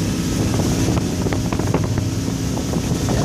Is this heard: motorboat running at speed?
yes